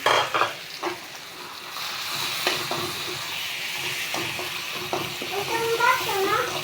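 Ground chili, onion and garlic paste frying in a pan, giving a steady sizzle broken by repeated scraping stirs, with brief voices in the background.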